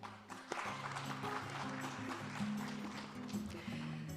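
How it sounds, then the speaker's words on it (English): Applause rises from an audience at a forum for its speakers. The clapping is faint and distant, carried under a steady hum, with a brief louder knock near the start. "please give all our speakers another big round of applause"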